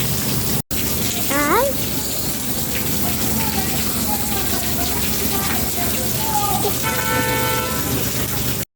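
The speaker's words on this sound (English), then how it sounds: "Rain is falling. Bye. Yeah, falling hard." Hard rain pouring with a dense, steady hiss, mixed with street sounds including a short car horn toot and a few passing tones, while people talk over the downpour.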